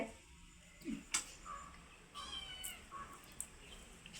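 A few short, faint cat meows scattered over a quiet background, with small clicks and rustles between them.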